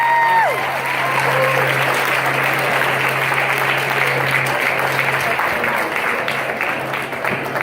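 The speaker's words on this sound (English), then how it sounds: "one more big round of applause for Marcia" Loud, dense audience applause fills a speech event, with a few whistles early on and a low steady hum beneath the clapping until it tapers slightly at the close.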